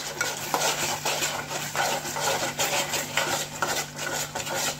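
Egg curry masala fries in oil in a pan while a spoon stirs it constantly. Rhythmic scraping and clinking of metal on the pan sit over a steady sizzle, close and fairly loud. Nobody talks.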